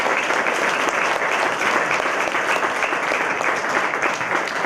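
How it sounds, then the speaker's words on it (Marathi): A kirtan audience gives loud, steady applause for the accompanying musicians, a dense, continuous wash of clapping that holds at full strength throughout. "त्यांच्यासाठी एकदा जोरदार टाळ्या वाजवून आपण त्यांचं मनपूर्वक कौतुक करूया."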